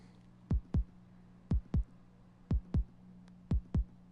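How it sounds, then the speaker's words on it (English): An electronic heartbeat-like beat from the Track Lab VR music app on PS4 thumps in four evenly spaced lub-dub pairs, deep and punchy over a low steady hum. "Oh, made a heartbeat."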